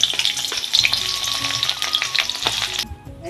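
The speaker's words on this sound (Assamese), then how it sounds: "কোপ্তা ভাজি থাকোঁতে যিখিনি তেল আছিলে সেইখিনি তেলতে আমি এতিয়া পিঁয়াজ দি দিম।" Sliced onions go into hot oil left over from frying kofta, giving a loud, steady sizzle with crackling spatter and occasional stirring scrapes, close up and continuous until it drops away near the end.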